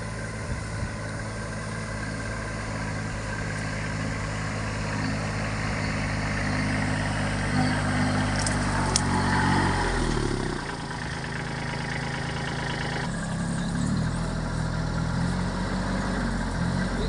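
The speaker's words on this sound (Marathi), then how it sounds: "बारक्या ट्रॅक्टरनं फवाराय चालू केलं आहे" A small tractor engine runs a sprayer on a pigeon pea field, steadily at idle-like speed, loud and close, with a constant low rumble throughout and no voices.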